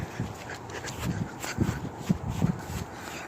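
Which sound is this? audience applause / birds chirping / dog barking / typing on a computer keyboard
dog barking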